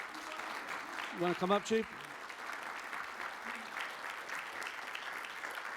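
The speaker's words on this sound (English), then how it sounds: "How about we give you all a round of applause?" Steady applause from a crowd honouring Riverside County firefighters at an awards ceremony, continuing throughout while someone briefly speaks over it.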